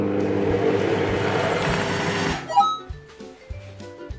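A kitchen robot with its lid locked mixes at speed 5 for a steady loud whirring stretch, then stops abruptly and is followed by a few short electronic beeps.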